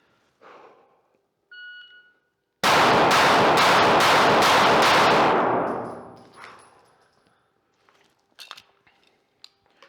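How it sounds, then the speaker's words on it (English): A short electronic shot-timer beep, then a loud, rapid burst of six gunshots in quick succession, fading into echo and faint clatter. "on the buzzer, 6 shots"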